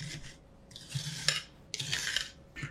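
A spoon stirs sugar syrup mixed with lemon juice and salt in a metal pot while making lemon squash. Scraping, clinking strokes come in short close bursts separated by brief pauses.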